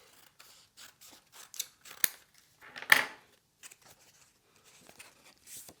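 Scissors snip paper while a pop-up stage-set card is made, a series of short close cuts and crisp rustles at an uneven pace, including one louder slicing cut, with no talk.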